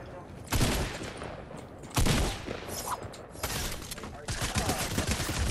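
SMG gunfire in a video game comes as several loud, separate bursts spread over a few seconds, with some voices mixed in.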